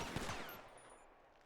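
Rapid burst of video game gunfire at a police academy firing range in NoPixel 4.0, a fresh magazine being emptied at a target, loud and dense at first, then fading into a trailing echo.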